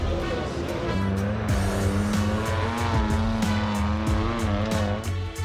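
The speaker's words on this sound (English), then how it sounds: "It's Phil Cagliero crossing the line, taking the victory and the checkered flag in the first UTV prelim of the National Championships at Reno." UTV race vehicles roaring at the National Championships in Reno, with loud sustained engine drone, shifting revs and tyre squeal over continuous crowd and track noise.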